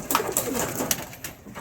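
Andra and Mantas pigeon chicks coo in soft, low, throaty bursts close by, with a few brief sharper rustles mixed in and no talking.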